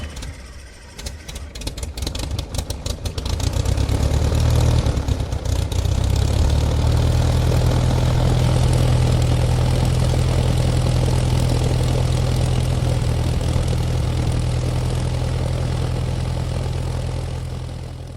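A propeller airplane engine starts up with a few uneven sputters, then settles into a loud, steady low drone that runs continuously to the end.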